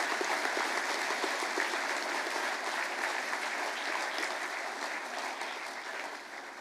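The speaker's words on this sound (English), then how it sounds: "Please give them a round of applause." Sustained applause from a school assembly audience honouring high-achieving HSC students, a dense steady wash of clapping from many hands that fades slightly toward the end, with no talk over it.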